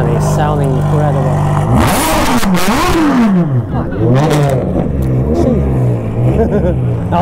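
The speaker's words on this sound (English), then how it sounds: "There's a 599. Awesome. Doesn't it sound incredible?" A Ferrari 599 supercar revs hard at a crowded car show, its engine climbing and falling in loud, close sweeps over crowd noise, while people talk excitedly around it.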